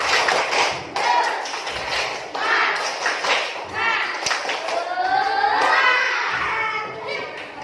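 A fifth-grade class of children claps together in a rhythmic cheer pattern of sharp slaps, mixed with excited shouting and chatter.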